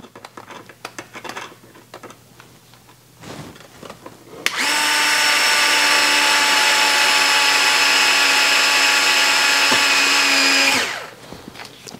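A power driver with a 5/64 hex bit whines loudly and steadily for about six seconds as it drives a screw into an RC racing chassis skid plate, after a stretch of quieter handling noise and brief clicks.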